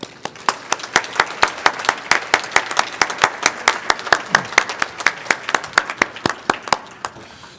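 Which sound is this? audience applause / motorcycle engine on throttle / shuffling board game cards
audience applause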